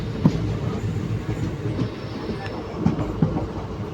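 The 17644 Kakinada Town–Chengalpattu Circar Express rumbles along the track, heard from on board as a steady low roar with a few distinct wheel-joint clacks.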